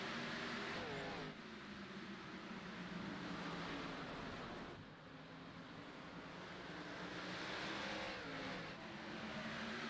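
Xfinity stock cars race at Richmond in a racing video game, engines roaring together in a continuous loud drone that swells and dips as the pack runs.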